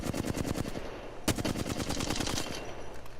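Rapid automatic weapon fire from an Apex Legends shooter, a steady fast burst of sharp, close shots with one louder crack partway through, heard alone without talk.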